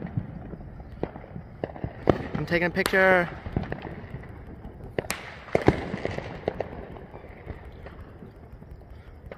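Sharp booms and crackling bursts of Fourth of July fireworks go off at intervals, fairly close, while a person talks over them.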